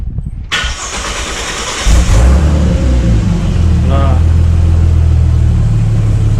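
A Ford XR6T engine cranks briefly, catches, and settles into a steady, low rumbling idle that continues close by.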